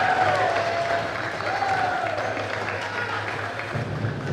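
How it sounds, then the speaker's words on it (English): Volleyball fans in a school gym at a regional tournament match give a sustained round of applause and cheering, crowd noise steady throughout, with a faint whistle-like tone and background murmur underneath. "That gets a round of applause from the Alexander Comet faithful."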